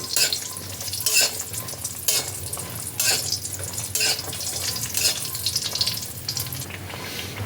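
Steady oil sizzling as lentil dumplings fry fills the clip, with periodic scraping and stirring bursts roughly every second. No voices.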